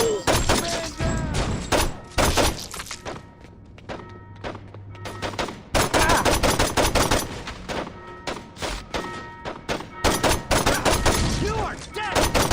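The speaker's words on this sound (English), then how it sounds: "I like shooting more than running." Saints Row 2 video game gunfire comes in dense, loud bursts of rapid shots with a brief lull in the middle, and in-game voices shout over the firing.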